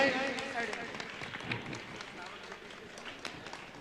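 An audience at a religious gathering breaks into applause, a steady wash of many hands clapping at moderate distance, fading slightly across the few seconds.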